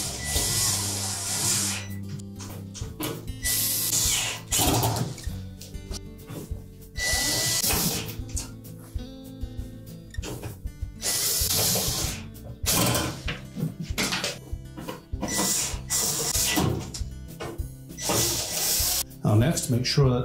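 Mounting screws being driven in to secure a Whirlpool range cooktop infinite switch, heard as close, intermittent bursts of ratcheting and whirring tool noise separated by brief pauses, with a voice talking between them.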